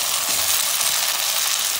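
Onions and tomatoes sautéing in a pan for a vegetable sagu, giving a steady, close, hissing sizzle with no breaks.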